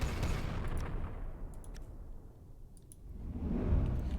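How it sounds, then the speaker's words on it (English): EMP cannons fire in the space battleship strategy game Final Theory, a steady rumbling barrage of blasts and crackling discharges with sharp clicking transients, swelling louder toward the end. "Let's get in close and unleash the EMP cannons."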